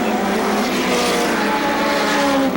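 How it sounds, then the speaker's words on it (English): Midget race cars circle Seekonk Speedway in single file, their engines a loud, continuous high-pitched whine with shifting harmonics over steady crowd-and-track noise throughout. "Cars running single file now."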